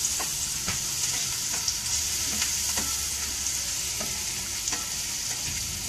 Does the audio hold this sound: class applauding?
no